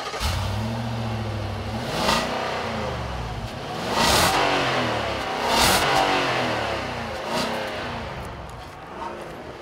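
A 2014 SUV engine revs while driving, compared among the Infiniti QX80, Range Rover Sport, Toyota Highlander and Dodge Durango, with a loud continuous engine drone rising and falling in several surges throughout.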